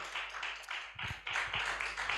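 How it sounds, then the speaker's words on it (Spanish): A church congregation claps in quick rhythmic bursts, fairly quiet and slightly distant, with a few lower thumps mixed in and no clear talk. "Dele gozo, dele fe en ese aplauso al Rey"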